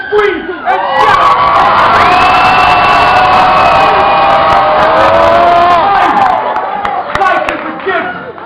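A poetry performance audience rises to its feet, screaming, cheering and whooping in a loud, sustained roar that fills the room before tapering off.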